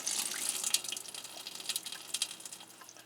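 Dark red soaking liquid from adzuki beans is poured off, a continuous light splashing trickle with small irregular spatters, fairly quiet and close.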